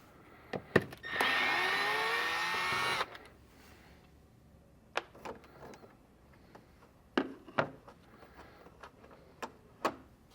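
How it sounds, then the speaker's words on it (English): A power driver with a Torx bit backs out Torx head bolts on a Polaris Xpedition Gen 2 UTV, a steady whirring burst of about two seconds, then scattered sharp clicks and taps of the bit and bolts. "we need to remove these two Torx head bolts"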